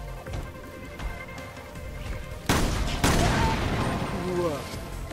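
Gunfire in Resident Evil Revelations 2, starting with faint scattered shots and then a sharp loud blast followed by heavy continuous firing, with someone talking over it.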